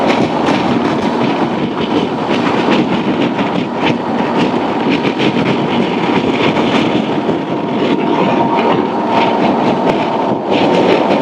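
Loud, steady roar of highway travel on a 2024 Honda Transalp 750 motorcycle while passing an 18-wheeler semi truck, dense wind and rumble continuing unbroken throughout.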